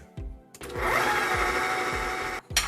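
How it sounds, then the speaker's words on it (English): Food processor grinding soaked bulgur into a soft paste for fried Lebanese kibbeh, a loud steady whirring drone that runs about two seconds between short bursts and pulses and ends abruptly. "So we're going to put it in the food processor and grind it"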